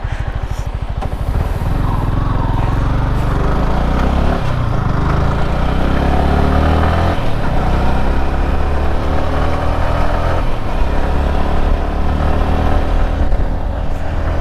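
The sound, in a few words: motorcycle passing by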